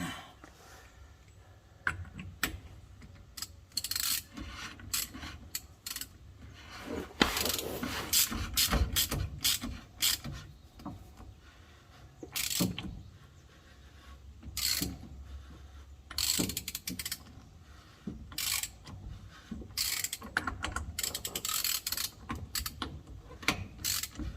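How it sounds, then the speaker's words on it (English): Ratchet clicking while tightening a billet lower fuel filter housing on a 2011-2016 Ford 6.7L Power Stroke diesel, close bursts of rapid pawl clicks separated by pauses and some handling clatter. "We'll switch to the ratchet."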